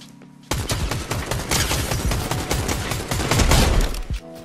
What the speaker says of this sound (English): there's another kid shooting on us from somewhere